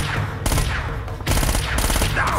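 Machine gun fire in an Uncharted game, loud rapid bursts of automatic shots that come in two clear volleys with a brief pause between them.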